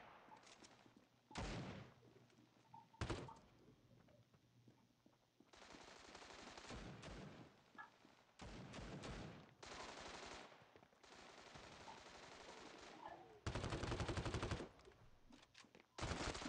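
Machine gun fire rattles through a video game in several rapid bursts, loud sharp volleys broken by short quiet gaps.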